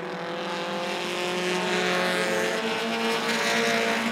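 Bandits class race cars roar around the oval at Rockford Speedway, a steady, loud, layered engine drone with harmonic whine building slightly as the pack passes, no voices over it.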